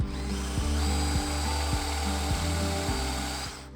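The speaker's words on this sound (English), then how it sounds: "I just burst through the front side of our panels here with the drill" A power drill runs continuously into wood panels of a king bed frame at the wrong angle, bursting through the front side, with a steady whine and low rhythmic thumping, close and alone, winding down at the end.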